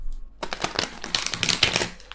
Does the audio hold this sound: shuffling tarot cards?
yes